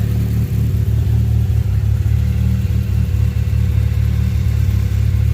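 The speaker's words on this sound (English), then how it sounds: "Turbo spooling a little bit, but I'll let her warm up." A 2019 Chevrolet Camaro SS V8 with its secondary catalytic converters deleted runs loud and steady, a deep low rumble with light throttle pulses, close by and with no talking.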